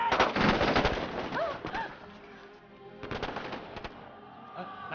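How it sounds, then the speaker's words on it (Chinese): Brothers fire guns into the sky in a period drama scene: a loud, rapid burst of gunfire up front, a quieter lull, then another sharp volley, with faint bird-like chirps in between. "兄弟们，朝天开枪，让我继父听见"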